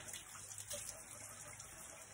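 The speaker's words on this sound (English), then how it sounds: "So now we're going to get our hands nice and wet." Warm tap water runs from a faucet over wet hands during handwashing, a faint, steady stream with soft splashing and no voices.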